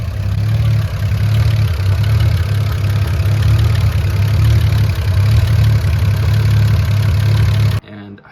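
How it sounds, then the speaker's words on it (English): A hot Buick engine idles steadily with a deep constant rumble after a drive, close up; any intermittent valve tick is buried in the drone, which cuts off near the end. "it'll go click click click click click, and then it'll stop"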